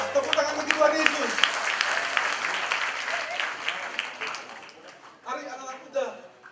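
Church congregation applauding, a dense wash of clapping that fades gradually, with a voice speaking over it near the end.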